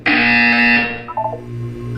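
A loud, harsh electronic buzzer from the video game Portal 2 blares for about a second, then cuts off into a lower, wavering tone and a steady background hum.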